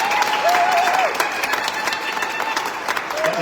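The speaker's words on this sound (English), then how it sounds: "Let's give a round of applause for the singers." A crowd applauds the singers at a signing ceremony for a gaming compact between South Dakota and the Standing Rock Sioux Tribe; steady, dense clapping fills the whole stretch at moderate loudness.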